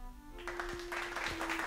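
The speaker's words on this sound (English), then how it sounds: "Let's get a round of applause for that." Applause sound effect bursts in about halfway through, a dense clatter of clapping that holds steady to the end over a faint, steady hum.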